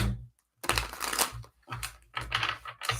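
Tarot cards are shuffled in quick bursts of papery riffling and clicking, with short pauses between shuffles.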